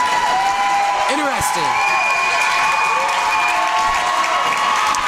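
A supportive crowd at a boys' high school basketball game applauds and cheers, a broad roar of clapping and shouts with a few whoops, while a voice speaks briefly over it.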